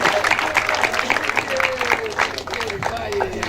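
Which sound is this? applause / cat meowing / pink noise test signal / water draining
applause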